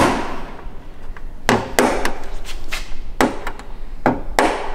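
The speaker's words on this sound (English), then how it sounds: "So we're just pulling the light off, popping the rivets through" Rivets being popped through to free a light on a Porsche 911SC, giving a run of sharp, loud knocks and pops at irregular intervals, about eight in all, over a low background hum.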